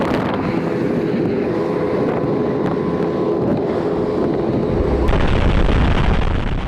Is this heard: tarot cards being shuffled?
no